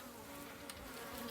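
Honey bees drone in a steady, dense buzz from an open hive during an inspection of brood frames, very faint and continuous, with no voices.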